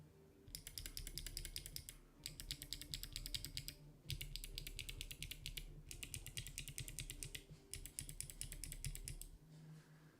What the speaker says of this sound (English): Now we're gonna do the clicky version.